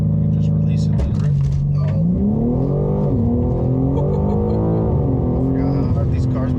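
A stock BMW G80 M3 launches hard from a standstill, its engine note climbing steadily in pitch through the gears, loud and close, with voices talking over it throughout.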